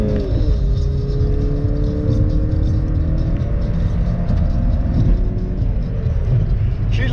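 An old beater car is floored from a pull-out onto the road, and its engine drones loud and steady from inside the cabin as it accelerates hard, with a low rumble throughout.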